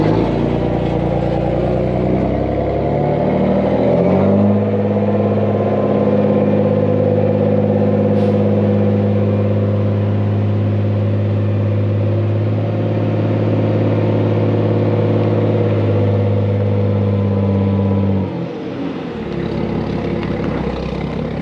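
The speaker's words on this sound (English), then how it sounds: "I don't know how that truck gets through there," A dump truck drives over extremely soft, spongy ground on a pool foundation job, its engine droning loud and steady at close range for about twenty seconds before easing off near the end.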